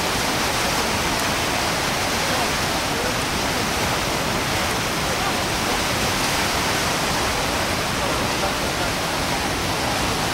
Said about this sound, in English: The rapids are created as it approaches the falls.